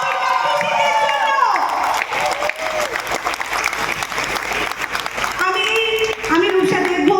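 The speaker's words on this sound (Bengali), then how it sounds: "একটা হাততালি হয়ে যাক আমাদের মা দুর্গার খুশিদের জন্য" A crowd at a Durga Puja stage play claps loudly and continuously with some cheering, a dense wash of hands that lasts throughout, with voices and tones mixed in.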